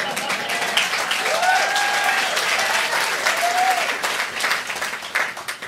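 A comedy show audience breaks into dense, sustained applause, with voices and shouts rising over the clapping before it thins toward the end.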